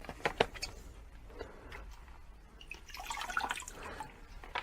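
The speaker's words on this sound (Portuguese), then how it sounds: "E quando você aperta, saem apenas algumas gotinhas de água." Water drips squeezed from damp sphagnum moss used as an orchid seedling medium: a few faint, scattered droplet ticks and soft wet sounds, close and quiet, with no talking.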